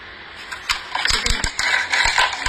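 An OXO Good Grips salad spinner being spun, giving a series of plastic clicks, rattles and whirring bursts in uneven pulses, close and moderately loud.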